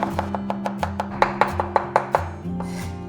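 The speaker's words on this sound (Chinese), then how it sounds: "然后大蒜拍碎， 然后切末。" A kitchen knife minces smashed garlic on a cutting board in quick, evenly spaced chops, about a dozen crisp close-up strikes over a faint background hum.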